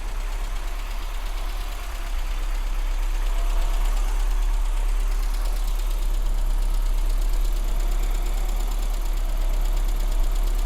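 An Austin Metro engine idles steadily and close, with a constant fine ticking tappet noise running through the drone and no talk.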